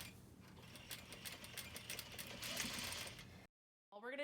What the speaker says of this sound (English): We're gonna sew from the edge 1/4 of an inch. So back stitch at the beginning and back stitch at the end.